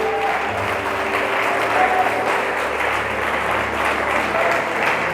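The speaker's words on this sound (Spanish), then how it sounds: "démosle palmas al Dios del cielo" A church congregation claps together in steady, continuous applause. A strong, dense wash of hands fills the room, with faint voices mixed underneath.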